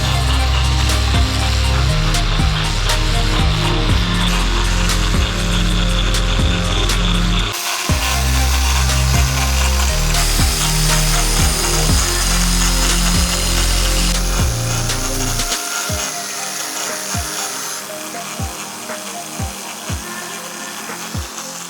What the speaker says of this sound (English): Orbital sand up on the roof, sanding all the edges back on every edge